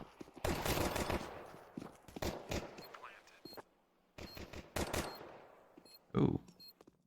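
Glock 18 pistol fire in Counter-Strike, sounding as loud bursts of rapid shots in several clusters, with a short gap of near silence in the middle and a sharp final shot near the end; a voice talks in between.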